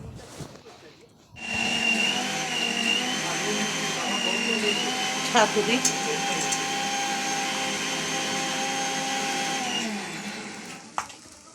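A kitchen blender grinds tomato, cashews, melon seeds, green chilli and ginger into a paste, starting abruptly and whirring at a steady loud whine for about nine seconds before cutting off.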